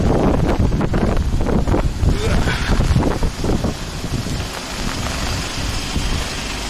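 Heavy rain pours and wind gusts roar across the microphone on the day Typhoon Mitag made landfall in Daeha-dong, Siheung, a dense, loud, steady wash with rumbling buffeting that eases slightly toward the end.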